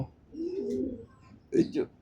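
Pet pigeons kept for sale give two soft, low cooing calls close by, a longer rolling coo and then a shorter one, with faint background noise between them.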